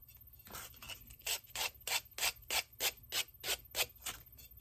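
Hand sanding the edges of a DIY decor piece with sandpaper: about a dozen close, rhythmic rasping strokes, each a short scratchy burst, repeated at a steady pace with no talking.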